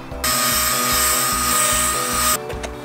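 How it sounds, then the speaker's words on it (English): A brand-new rotary sanding disc grinding a sun-damaged, yellowed plastic lens from a vintage JDM police light, giving a steady high whine that runs for about two seconds and then cuts off. "This is a new, like a brand new sanding disc."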